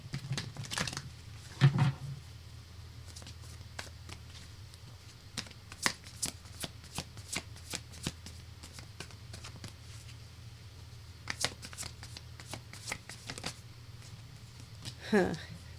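Tarot cards being shuffled by hand, a series of soft riffling and flicking bursts spread across the stretch, with a person speaking quietly at times in between.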